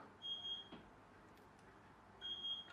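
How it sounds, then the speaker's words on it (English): A kettle signals the tea is ready with faint electronic beeps in the background, two short bursts a couple of seconds apart in a quiet room. "That beeping in the background is my tea is ready"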